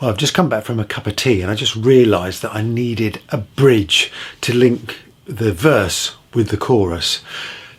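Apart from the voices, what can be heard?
No distinct noise like a dog, phone or traffic.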